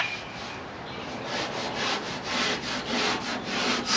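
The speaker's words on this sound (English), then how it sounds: "scuff it up." Abrasive pad scuffing a truck tailgate surface in steady back-and-forth strokes, a close, even rubbing hiss with a regular rhythm and no voices.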